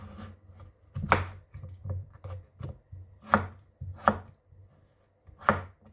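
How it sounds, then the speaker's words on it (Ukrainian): A knife chops potatoes into cubes on a cutting board, with a few sharp, crisp strikes at uneven intervals over a low background hum, close and fairly loud. "Картоплю нарізаємо"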